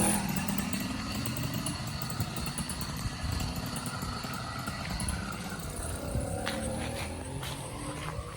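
A modified 80cc motorized bicycle engine with a new exhaust gasket runs steadily and fairly loud throughout, with a rough buzzing drone and no talk over it.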